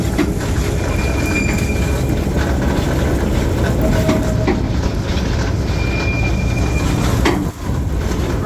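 The Capital Railway ride train at Six Flags America rolls along steadily with continuous rumbling wheels and brief squeals, heard close from on board.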